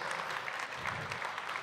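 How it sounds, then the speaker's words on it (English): A crowd at a karting championship finals event applauds steadily, a dense wash of clapping hands that sounds moderately distant and holds evenly throughout. "Huge round of applause"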